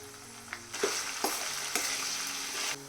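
Onions frying with ginger-garlic paste and salt in a pan, a steady close sizzle broken by a few sharp scraping stirs of a spoon, with no talking.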